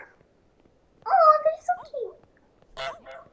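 Geese honking in the Untitled Goose Game, a few nasal honk calls arriving in short bursts with quiet gaps between them, fairly close and clear.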